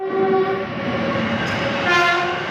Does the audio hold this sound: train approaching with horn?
yes